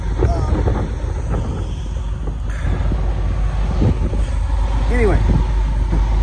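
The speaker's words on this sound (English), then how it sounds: "That's the wind blowing and everything." Cold wind buffets the microphone in a steady low rumble throughout, with a person talking over it in the open air.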